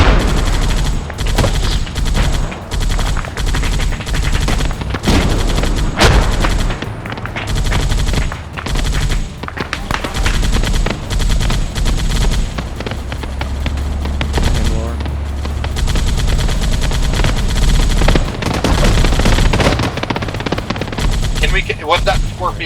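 Sustained military video game gunfire, dense automatic bursts and rapid shots layered with booming impacts, loud and continuous throughout, with voices occasionally heard under the combat noise.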